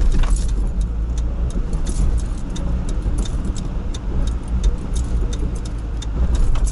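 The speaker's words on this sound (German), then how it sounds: "wir fahren das mal rechts ran" A BMW E30 rolls along a road with steady engine and road rumble throughout, a continuous moderate drone as the car drives and slows to pull over to the right.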